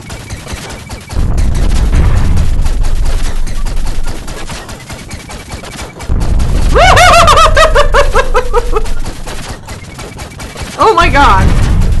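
Turret fire in the game Owlboy during a boss battle against gnomes: loud rapid bursts of shots in several long stretches, with short quieter gaps between them and zapping, chirpy effects laid over the volleys.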